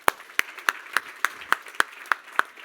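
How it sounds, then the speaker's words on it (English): A conference audience applauds in a slow, even rhythm of about ten distinct claps, welcoming the moderator at an energy industry gathering. "really big round of applause to welcome you"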